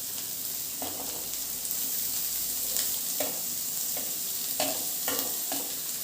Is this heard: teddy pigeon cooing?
no